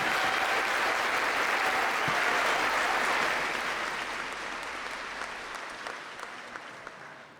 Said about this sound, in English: May we have a round of applause.